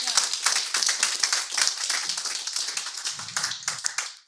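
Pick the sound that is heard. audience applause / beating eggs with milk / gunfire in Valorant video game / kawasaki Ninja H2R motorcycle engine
audience applause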